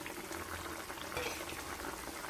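Vegetable curry with radish, cauliflower and potato bubbling at a steady boil as fried puti fish goes into the pot, a continuous close simmering hiss with no talk.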